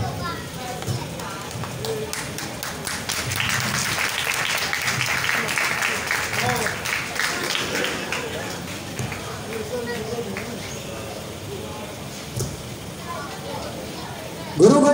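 Audience applause at a Diwali celebration honouring guests, sustained clapping from a crowd at moderate distance, blended with a murmur of voices and an announcer's talk.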